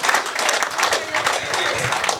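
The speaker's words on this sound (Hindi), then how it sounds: "ताली बजानी हो बजाओ" Audience applause at a Hindi comic poetry show, a brief, dense burst of many hands clapping, fairly loud and close, with crowd murmur beneath.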